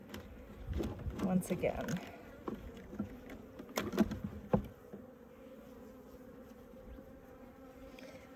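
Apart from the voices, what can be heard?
honey bees buzzing at a weak removal colony hive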